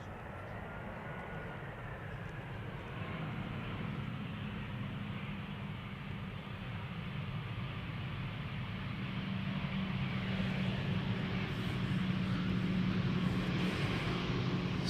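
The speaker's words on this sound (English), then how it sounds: "This is Austrian coming in from Vienna. Flight 371. It is an A320." An Austrian Airlines Airbus A320, twelve years old, arriving from Vienna at a big airport gives a steady, distant engine roar. The roar builds slightly louder toward the end, with no talk over it.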